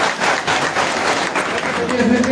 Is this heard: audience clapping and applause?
yes